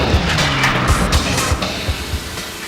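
Racing plane engine at the Reno Air Races, the aircraft Critical Mass, roaring steadily and loudly throughout with broad noisy texture and recurring low pulses, no talk over it.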